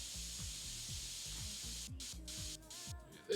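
Compressed-air spraying to clean PC case fans in the PC Building Simulator 2 video game, a steady hiss over rhythmic low mechanical clunks, ending with a few short clicks.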